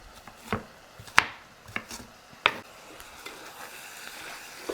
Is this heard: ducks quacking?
no